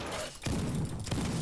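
Shotgun blasts in a video game firing at two dangerous enemies during a mountain raid, two heavy booming shots about half a second apart, loud and close, with no talk over them.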